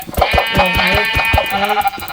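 Sheep in the video game Minecraft bleat repeatedly in quick, wavering calls, loud and close, overlapping one another over a busy game background with no talk.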